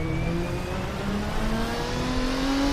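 A Studio GT mod race car in the Assetto Corsa racing sim runs under steady throttle, its engine holding a continuous loud drone with a slowly rising pitch, no voices over it.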